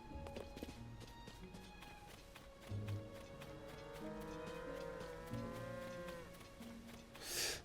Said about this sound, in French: C'est ça les vaches